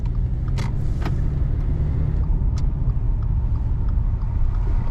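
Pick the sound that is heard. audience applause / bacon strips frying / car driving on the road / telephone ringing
car driving on the road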